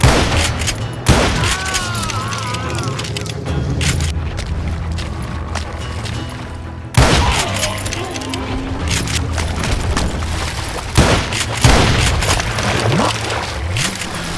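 Gunfire and heavy booms in the Western shooter Call of Juarez Gunslinger: loud, close shots and blasts that come in bursts over about fourteen seconds, with music and voices underneath.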